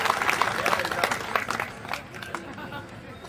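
An audience at a Hindi poetry gathering bursts into applause, a loud, dense patter of many hands near the listener that fades after a few seconds, with some crowd chatter mixed in.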